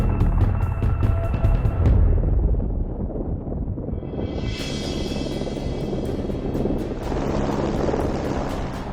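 Wind gusts outdoors buffet the microphone in a loud, continuous rumbling roar, swelling and easing over several seconds with no clear pauses.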